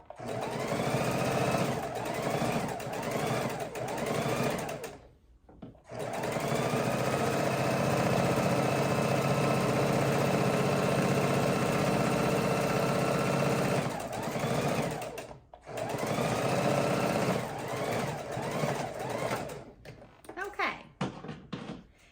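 A sewing machine stitches a bone-shaped pillow in long, fast whirring runs, broken by a few short pauses and some quick stop-start bursts near the end.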